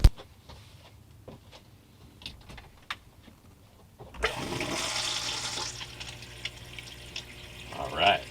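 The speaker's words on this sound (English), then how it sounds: "We'll get the sluice fired up, and we'll run us some dirt." Small scattered clicks and handling noises come first, then a gold sluice running BobbyBo's FortKnox paydirt starts up with a sudden, steady rush of flowing water that continues loud and close to the end.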